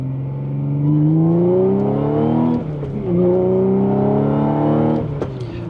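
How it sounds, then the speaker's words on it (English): Supercharged 2016 Audi S5 B8.5 with 100k miles accelerating hard up a highway on-ramp, engine pitch climbing steadily through two long pulls separated by a brief shift dip, loud and close from inside the cabin. "This is where you'll hear the supercharger more."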